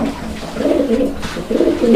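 A pair of racing pigeons coos in close, throaty repeating bursts, loud and near, with short pauses between the rolling calls and no talk.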